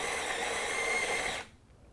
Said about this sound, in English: You can hear the grinder going.